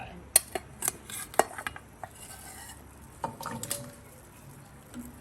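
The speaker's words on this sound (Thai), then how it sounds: "พอเนื้อเริ่มเดือดก็จะใส่มันลงไปแล้ว" Chunks of potato are dropped into a pot of boiling beef soup, making scattered sharp clinks and clattering knocks against the metal over a faint bubbling background.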